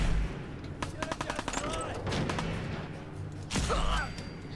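Gunfire in the Fallout 4 video game: a quick run of sharp, loud shots, then a heavier blast near the end, with a voice talking over parts of it.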